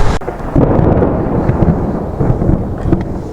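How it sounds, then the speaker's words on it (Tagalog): Low, rolling rumble of thunder that swells and lingers, fairly close and loud, with no voices. "Kumukulog-kulog na."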